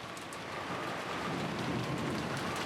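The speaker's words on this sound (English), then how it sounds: "as the sound of wind and rain slowly filled the room once again" Steady wind and heavy rain fill the scene in an Umineko visual novel, a dense, even hiss of rainfall that carries on unbroken with no voices.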